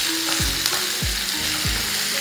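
Mutton pieces frying in a pan for a steam roast, a loud, dense crackling sizzle with a few soft stirring knocks and scrapes at regular intervals, close by and without speech.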